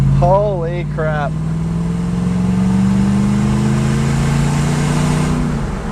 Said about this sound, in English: The GX sounds like a beast right now.